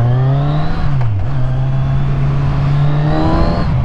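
A Kawasaki Z1000 motorcycle rides off with a loud, close, steady engine drone, its pitch dipping briefly with a gear change before holding at a constant cruising note, with no speech.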